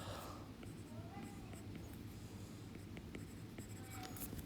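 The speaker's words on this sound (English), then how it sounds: "I'm going to even go as far as writing" Pen scratching across paper during a math lesson, a quiet run of short, irregular strokes and taps under a soft room hiss.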